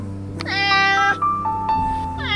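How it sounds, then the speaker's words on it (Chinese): A trapped orange-and-white cat deep inside a ventilation shaft meows loudly, giving two drawn-out, wavering cries that rise and fall in pitch, close and clear with no talk over them. "它似乎知道有人在救它，开始叫了起来，叫声还越来越大。"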